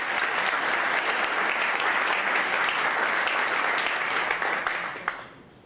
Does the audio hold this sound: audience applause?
yes